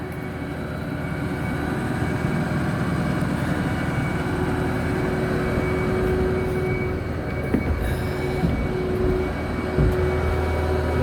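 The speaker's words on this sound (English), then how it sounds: "Idles right up to a little over 1200 RPM." 2008 Ford F550 truck with its diesel engine idling high after a cold start, a steady loud drone with constant hum throughout, a couple of faint clicks near the end.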